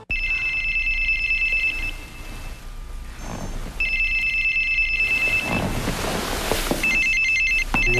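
A telephone bell rings in repeated trilling bursts with short pauses between them, loud and clear, as part of a TV advertisement, with a busy backing track underneath.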